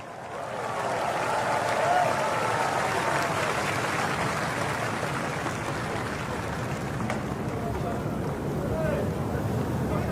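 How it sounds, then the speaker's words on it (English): A huge crowd at the National Day Parade 2022 applauds the virtual choir performers. The applause is a dense, continuous wash of clapping that holds steady for about ten seconds, heard from a distance like a stadium roar. "let us show our appreciation to the performers of the virtual choir by giving them this huge round of applause"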